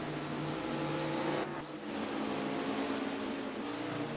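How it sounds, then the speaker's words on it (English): Race cars in NASCAR Racing 2003 roll down pit road at Indianapolis Raceway Park: a loud, continuous engine drone with one car sweeping past midway, and no talking. "Nonagon Scott, Ross McTrain, just some of the cars coming down pit road this time"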